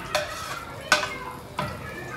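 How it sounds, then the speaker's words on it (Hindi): Ground chana dal tipped into hot ghee with green cardamom and stirred for halwa, giving a soft, steady sizzle broken by three sharp scraping clatters of a spoon against the pan. "तो अब हमने जो दाल ग्राइंड की थी वो घी में डाल देंगे"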